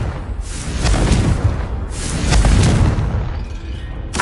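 A Confringo blasting spell from the Hogwarts Legacy video game goes off as loud, rumbling booms, two broad bursts swelling about a second apart over a dense low roar.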